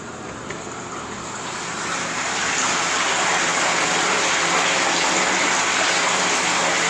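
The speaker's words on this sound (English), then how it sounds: "pump it back into this tangential input. So. On. So we can adjust the intensity of the whirlpool." Water is pumped through the tangential inlet of a 7-barrel Stout Kettles brewhouse kettle during a water test, stirring up a whirlpool. A loud, steady gushing rush swells after about two seconds and then holds constant.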